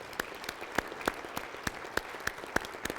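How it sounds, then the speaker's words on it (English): Scattered, uneven claps from a small group ring out as a round of applause at a staff merger celebration, about a dozen distinct sharp hand claps spread over a few seconds with no voices. "I'd like to give them one more round of applause"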